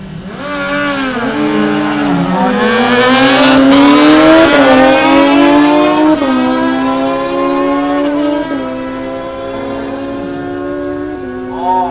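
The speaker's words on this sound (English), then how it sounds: "Todd Blinko on the faster bike with a 962" Drag racing motorcycles at the Willowbank street series scream down the strip, engines revving hard and shifting up through gears in a loud, continuous wail with rising and falling pitch, no talk over it.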